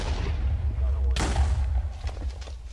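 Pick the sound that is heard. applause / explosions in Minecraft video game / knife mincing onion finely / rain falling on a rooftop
explosions in Minecraft video game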